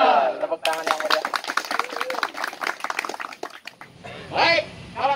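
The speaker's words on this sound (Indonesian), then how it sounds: "Tepuk tangan yang mulia." A group of people claps in rhythm during a morning security guard training session in Banyumas, a burst of sharp claps following a voice at the start and fading into scattered sounds and voices toward the end.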